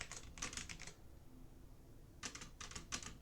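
Two quick bursts of computer keyboard typing while writing Rust code, close and crisp, separated by a short pause of quiet room tone.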